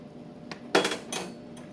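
A spoon or whisk scraping and clinking against a pot while stirring a flour roux for Cajun gravy, a few quick metallic strikes close up in a quiet kitchen.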